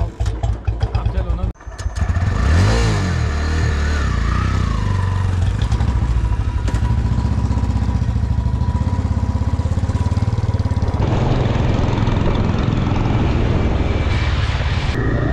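Royal Enfield Bullet motorcycle riding along a road near a Goa beach, its steady loud engine drone and wind rumble continuous throughout, with people talking over it.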